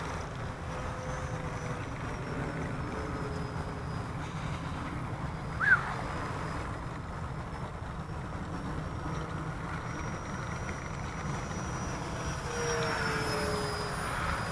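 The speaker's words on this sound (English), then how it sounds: "Full throttle. Lifts up. Flaps up. Gear up." Small Rebel V2 RC airplane flying at full throttle on a 4S battery, giving a steady, moderately distant motor and propeller drone with a brief louder blip midway.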